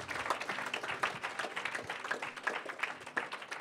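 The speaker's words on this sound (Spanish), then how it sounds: "Démosle un aplauso al Señor." Church congregation clapping for the Lord after a Spanish-language prayer, a dense, steady patter of many hands sustained evenly throughout at moderate loudness, with no speech over it.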